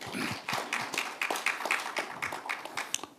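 Light applause from a forum audience in a hall, scattered hand claps with a rapid uneven rhythm at moderate distance and fairly quiet, with no speech over it.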